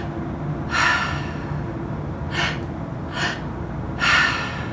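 Four sharp, forceful inhales during active breathwork, drawn in through the nose or mouth, arriving in separate bursts over a low steady hum, with no talking.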